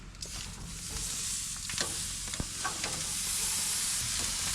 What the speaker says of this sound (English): There we go, big old steak on the grill.